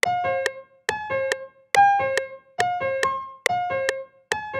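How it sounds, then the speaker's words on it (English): Piano chords added to a hip-hop beat strike in a steady repeating pattern, each sharp attack decaying quickly before the next pair of hits, clear and up front with no talking. "Then we're adding in a piano."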